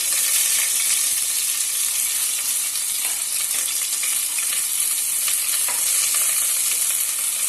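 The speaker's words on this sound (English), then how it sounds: "If the oil is heated, then add first curry leaves, then green chili" Curry leaves and green chili fry in hot oil in a pan, giving a steady close sizzle with faint crackles and a few stirring scrapes, no voices.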